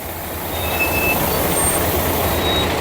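A water tanker truck at a water station in Saudi Arabia pulls up and idles in a steady loud rumble with broad engine and road noise, a few faint high beeps over it.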